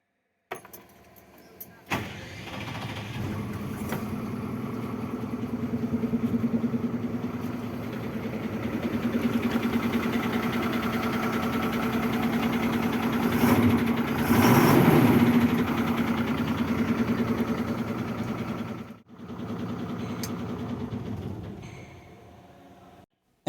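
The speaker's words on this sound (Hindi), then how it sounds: "अब इंजन को स्टार्ट कर इंजन के साउंड सुनाएंगे।" A steady diesel idle from an Ashok Leyland 2825TU BS6 ten-wheeler tipper truck. It starts after a brief silence and holds a low, even rumble close by for about twenty seconds, with one short dip before it settles again.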